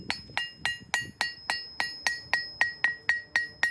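A hammer strikes an anvil on a stand anchored into the ground, about a dozen evenly spaced ringing blows, each bright clink followed by a short fading tail.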